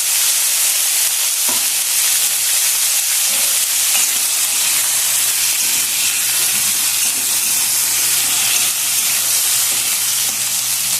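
Tomatoes and green chillies frying in hot oil for a Mysore bajji roadside tomato chutney, a loud continuous sizzle and hiss with faint stirring scrapes throughout.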